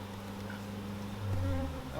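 Honey bees buzzing around an open hive, a continuous close drone of many insects that swells slightly louder toward the end, with no talking.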